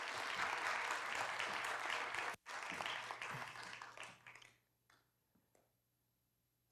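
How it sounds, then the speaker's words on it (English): Applause from a lecture audience fills the first few seconds as a dense, steady patter of many hands, then thins to a few scattered claps and fades into near silence. "if you could raise an applause for Gerard"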